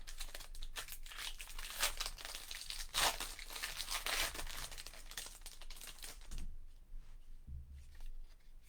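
Hockey card packs being torn open by hand: close, continuous crinkling and ripping of foil wrappers, busy and textured throughout, fading to softer rustles near the end, with no talking.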